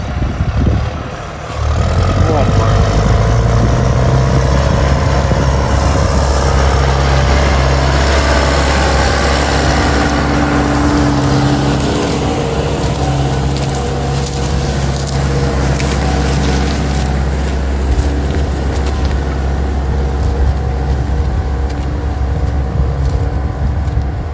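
A tractor engine runs steadily with a deep, rumbling low drone that holds throughout, loud and close, with a slight swell partway.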